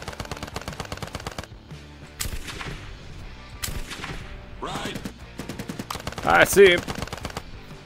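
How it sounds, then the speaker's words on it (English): Video game gunfire rings out in sharp bursts of rapid shots, with bullets striking the metal sides of a van, loud and close, while someone speaks briefly between the volleys. "Bullets impacts the sides of the van."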